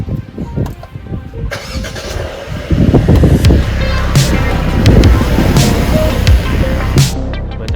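Mercedes-Benz E200 Cabriolet engine catching and then settling into a steady drive, a loud close rumble with road and wind noise building after the start and continuing throughout.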